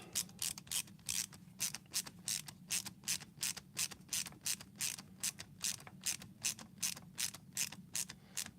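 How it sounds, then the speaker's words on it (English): A screwdriver tightens screws on a Leatherman Wave multitool, giving a quiet, steady series of rhythmic ratcheting clicks, close and alone, repeating about three times per second. "We'll grab our screwdriver here and here, and we'll tighten that down."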